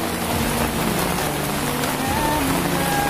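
Steady heavy rain pouring outdoors under dark storm clouds, a dense continuous hiss of drops on surfaces with no pauses, loud and close throughout.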